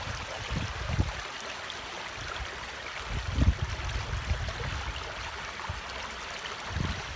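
Water flowing along a small stream in Garin Regional Park, Hayward: a soft, continuous burble and trickle, fairly close, with gentle swells and no talking.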